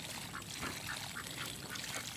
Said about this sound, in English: we had a sneaky little duck jump in the pool